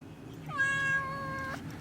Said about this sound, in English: Get that cat away from here.